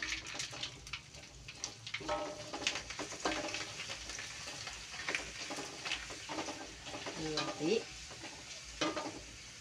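Shrimp paste crackers (kerupuk terasi) fry in hot oil with a continuous close sizzle, punctuated by stirring clatter and scraping in a home kitchen.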